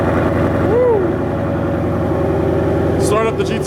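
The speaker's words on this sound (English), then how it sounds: "Start up the GTR now, let it warm up a little bit." A Nissan GTR running on E85 fuel idles steadily after starting, a continuous close engine rumble heard beneath people talking in a garage.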